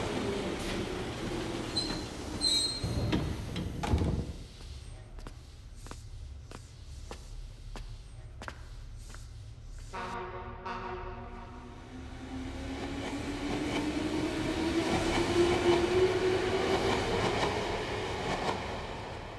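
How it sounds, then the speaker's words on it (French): A subway train rumbles and clatters, with rhythmic clicks over the rails, a rising whine and swelling roar as it gains speed, heard from nearby. "Il y a vraiment un métro alors?"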